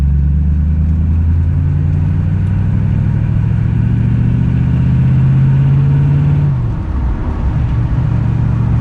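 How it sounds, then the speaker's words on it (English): An air suspension pump runs in a Rover V8 engineering workshop, giving a steady, loud, low mechanical drone that holds evenly for most of the clip before dipping briefly near the end. "The pump that's running that you may or may not be able to hear is just for the air suspension setup."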